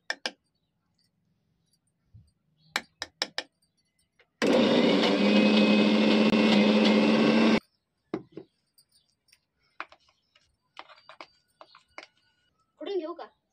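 A kitchen mixer grinds mixed lentils into a paste for sun-dried lentil fritters, a loud steady whirring burst of about three seconds, framed by scattered clicks and a voice before and after.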